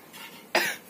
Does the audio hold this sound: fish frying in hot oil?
no